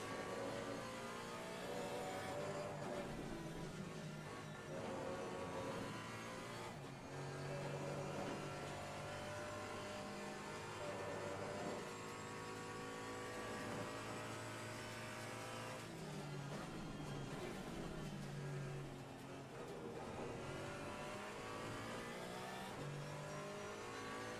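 A GT4 race car in the racing game Assetto Corsa Competizione on cold tires revs hard through repeated accelerations and gear shifts, engine note rising and falling continuously and loud, with no speech.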